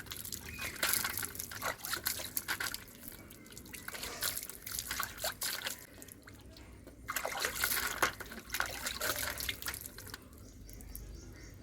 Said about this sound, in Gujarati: તો આપણે મોં ધોઈ નાખીશું ઠંડા પાણીએ.